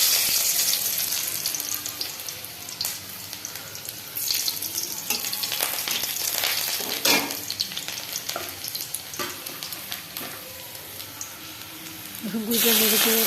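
Chopped garlic frying in hot oil in a home kitchen, a continuous close sizzle and hiss with stirring scrapes and clatter, rising into a louder burst of sizzling near the end.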